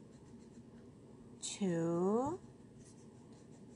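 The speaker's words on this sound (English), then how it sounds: "With a black crayon or pencil, color the keys of each 3 black key group." A black crayon or pencil scratches across paper while coloring in the keys of a drawn piano keyboard, a short close rasping stroke lasting under a second, with a voice speaking around it.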